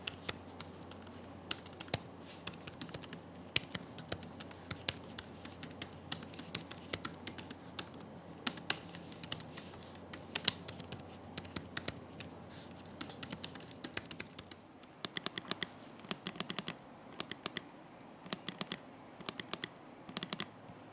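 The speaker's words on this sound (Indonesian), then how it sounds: "coba tunjukin hasil tes keyboard dan juga touchpad dari laptop ini" Continuous typing on the keyboard of an ASUS Zenbook 17 Fold OLED UX9702 laptop, a rapid, uneven stream of light plastic key clicks, close and fairly quiet, with no talk.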